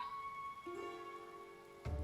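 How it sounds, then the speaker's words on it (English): Rain falling in Final Fantasy 14, a soft steady hiss beneath sustained ambient music tones, with a sudden louder thud near the end. "Oh no, now it's raining."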